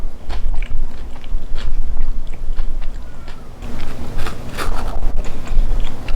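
Crisp bites into crunchy fried pork skin of lechon kawali, heard up close as repeated crackling crunches and chewing, loud and irregular.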